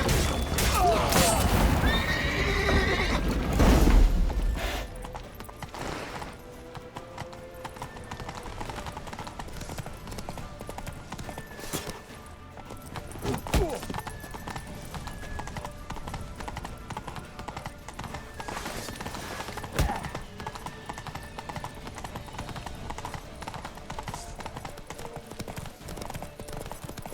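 Rhythmic hoofbeats gallop steadily under a loud neigh in The Witcher 3 gameplay, with crashes and rumbling game effects around them and occasional faint voices.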